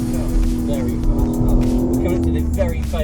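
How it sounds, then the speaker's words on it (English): Onboard a BTCC touring car at speed in 2023, the engine holds a loud, steady drone with shifting pitch, while a voice talks over it. "This is a quick car."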